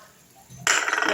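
Water rinsed from a grinder jar is poured into chutney cooking in a pan, setting off a sudden, loud, hissing splash after a brief quiet moment.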